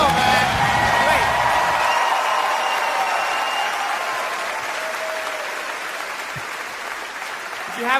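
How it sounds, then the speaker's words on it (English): A stand-up comedy crowd applauds comedian Bill Burr with loud, sustained clapping and scattered whoops, slowly tapering over eight seconds while a voice talks over the start. "Bill Burr, a round of applause for Bill"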